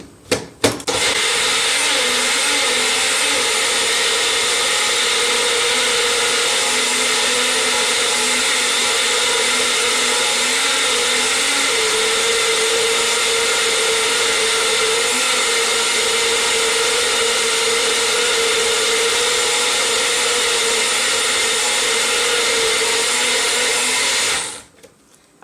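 A blender whirs steadily while mixing gluten-free vegan pancake batter, a loud continuous motor drone that starts abruptly, holds for about twenty-four seconds with a slight shift in pitch partway through, and then cuts off.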